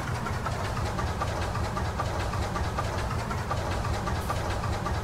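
Tractor engine running in the farming game Farming Simulator 19, a steady low rumbling drone with a fast regular chug, continuous and fairly loud.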